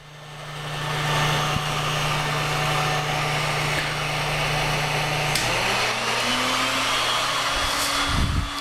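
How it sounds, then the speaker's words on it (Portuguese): A DeWalt D26411 heat gun at maximum speed and power gives a loud, steady blowing roar with a low hum underneath, running continuously; the tone shifts slightly near the end. "Soprador térmico na velocidade máxima e potência máxima."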